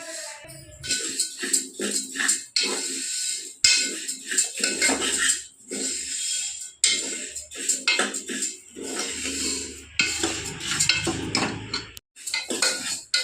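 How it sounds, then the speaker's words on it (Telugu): Toor dal being dry-roasted in a pan for sambar gives off irregular scraping and clinking of a metal spoon against the pan, with intermittent rattling bursts and brief pauses, close and fairly loud. "కందిపప్పును వేయించుకుంటే చాలా రుచిగా ఉంటుంది"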